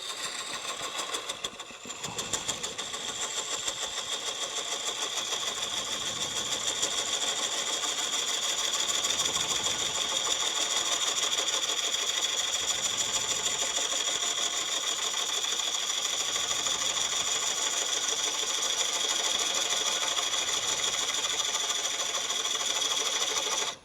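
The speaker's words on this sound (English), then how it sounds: "This is a really small bow gouge, and I'll run it from outside in" A small bow gouge push-cuts a wood plate spinning on a lathe. A continuous, bright scraping hiss rides over the lathe's steady drone, loud and close, holding unbroken for the whole stretch after a brief hitch near the start.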